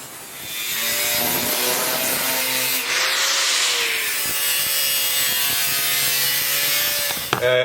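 A battery box part for a Yamaha XS850 brat build is cut in a garage, a steady, loud rasping saw stroke running continuously for several seconds with a brief clatter at the end.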